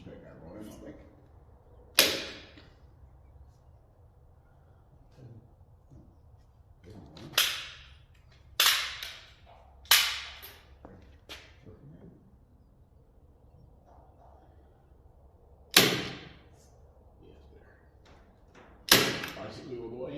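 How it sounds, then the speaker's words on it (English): Staple gun firing staples into wood on a 1925 Studebaker, six sharp separate cracks spread over the span, close and loud against quiet rustling, with someone speaking in between. "I'll bang a couple of staples in here and see if they fire in."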